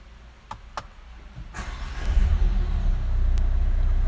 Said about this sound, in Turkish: Hatta sizin için aracı da bir çalıştıracağım.